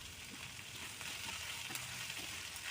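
Onions fry in a pan with salt added, making a quiet, even sizzle with faint stirring clicks throughout a short stretch; no one speaks.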